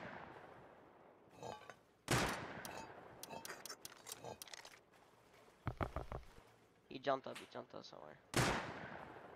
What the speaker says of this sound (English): They're shooting through the nets right now.